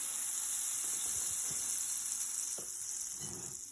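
Butter sizzling in a crepe pan, a steady bright hiss with a few faint clinks and taps, fairly quiet and alone without voices.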